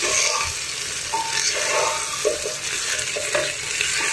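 Home cooking in a pot, with food being stirred over heat: scraping, shuffling stir strokes over a steady sizzle, close and fairly loud, no talking.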